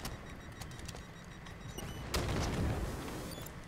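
A grenade blast in a first-person shooter game, a sudden broad boom that swells and rumbles for over a second over steady background game noise, with no talk.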